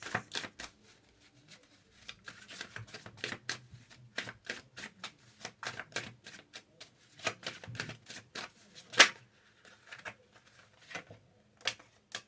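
A deck of oracle cards is shuffled by hand, producing quick bursts of crisp riffling snaps and slaps in uneven clusters, close and fairly quiet.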